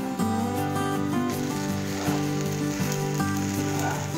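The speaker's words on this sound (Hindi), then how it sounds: "अब इन सारी चीज़ों को हम अच्छे से मिला लेंगे और साबूदाने को पका लेते हैं।" Sabudana khichdi cooking on a medium flame sizzles loudly and steadily in the pan, with light stirring, while music plays throughout.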